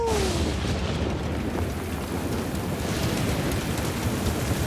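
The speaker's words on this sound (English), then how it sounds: "It's raining." Steady broadband rain hiss with a low rumble underneath, continuous and fairly loud throughout, with no other distinct sounds.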